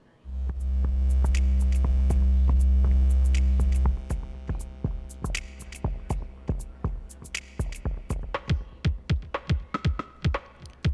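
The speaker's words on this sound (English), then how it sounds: "I already have the drum track on the OPZ, and it currently sounds just like this." An OP-Z drum track pattern plays: a loud sustained low bass tone for four seconds, then rhythmic, echoey percussive hits repeat alone at a quick steady pulse.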